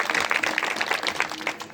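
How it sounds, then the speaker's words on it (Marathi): An audience at a state-level Warkari devotional bhajan competition claps to welcome a singing group, a brisk, dense burst of many hands that stays steady throughout, with a voice faintly underneath. "असू द्या, टाळ्या वाजवून त्यांचं स्वागत करायचंय."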